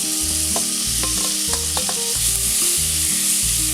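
Chopped tomato sizzles in a pan with softened onions. The frying hiss is loud and continuous, with rhythmic stirring scrapes and clanks throughout and no talk.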